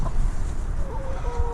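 A chicken squawks loudly after being stepped on while eggs are checked in a winter henhouse, its cry rising briefly over scuffling and rustle in the coop.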